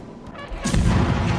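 Warship guns firing in the naval combat game World of Warships, a heavy booming salvo that swells into a loud, sustained rumble.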